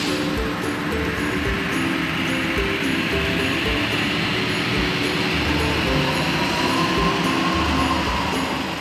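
A train sounds in steady, loud rumbling motion, with a continuous low roar and faint rhythmic mechanical clunks running throughout, and no talking.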